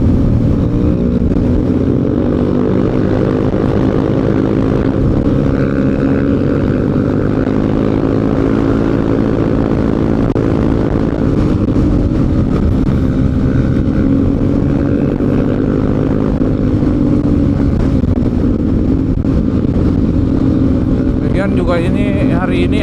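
Strong wind buffets a motorcycle on a busy Jogja–Jakarta highway road trip, a loud, continuous low roar with engine drone beneath it throughout.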